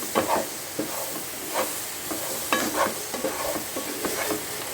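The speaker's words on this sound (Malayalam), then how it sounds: "ഇളക്കി യോജിപ്പിച്ച് കൊടുക്കണം" Ivy gourd and potato stir-fry being stirred in a pan, with repeated scraping and clattering strokes over a steady background sizzle, close and moderately loud, no talking.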